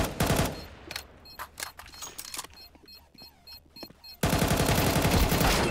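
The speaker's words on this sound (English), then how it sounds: "I'm going to shoot the other one." Counter-Strike 2 gunfire sounds in sharp automatic bursts, first with scattered single shots and clicks, then a loud, sustained burst of rapid fire at the close.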